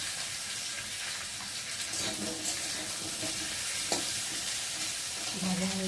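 Potatoes and eggplant fry in a home kitchen pan with a steady broadband sizzle and occasional stirring scrapes, close and moderately loud, with a brief clink near the end.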